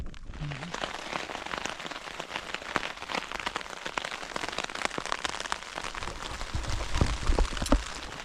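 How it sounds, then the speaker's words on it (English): Rain drumming on a tent during wild camping on the North York Moors, a dense steady patter of drops up close with occasional heavier taps. "as you can hear, that rain, it's raining proper now"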